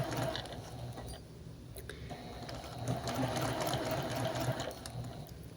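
A sewing machine stitches a curve in fabric with a quarter-inch seam, running as a steady, continuous whir at close range, with no pauses and no voices.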